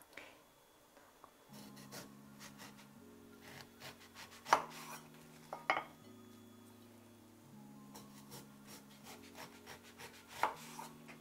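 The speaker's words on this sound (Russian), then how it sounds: "И разрезаем на части. Я буду разрезать на 8 частей." A knife cuts fruit into eight pieces on a board, giving a series of sharp, close chops spaced a second or two apart over a quiet background with soft low musical tones.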